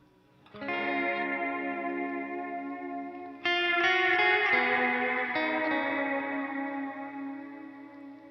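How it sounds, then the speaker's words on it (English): A Walrus Audio Slotva reverb pedal on its Dream setting washes sustained guitar chords into a lush, shimmering ambient tail, with a second strummed chord swelling in over the first and ringing out at steady volume. "So I'm going to throw on the Dream setting."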